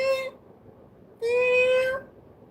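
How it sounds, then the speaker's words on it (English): A house cat gives two high, thin meows, a short one and then a longer, slightly louder one after a pause, close by with quiet surroundings. "he does have the most pathetic meow ever"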